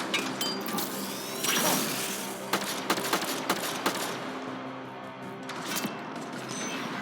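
Turret gunfire in the video game Mass Effect Andromeda, with bursts of sharp cracking shots over a steady game soundscape, some clusters near the middle and a few fainter hits later.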